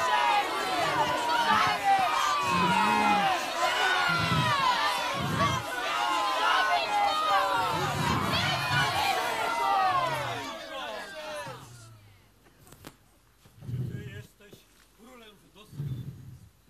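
A stirring crowd yells and clamours in a staged Passion play, Ostrowskie Misterium 2018, loud and overlapping for about twelve seconds before it cuts away to quieter moments with a few isolated voices.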